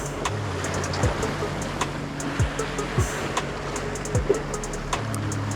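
Strong sea waves wash and slap around a small fishing boat in a steady broadband rush, with occasional knocks and thumps of the hull and gear, and no one speaking.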